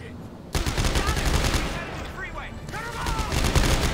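Rapid gunfire in the video game Dead Space 3 co-op, dense bursts of shots after a sudden start, loud and continuous with electronic game effects and some talk mixed in.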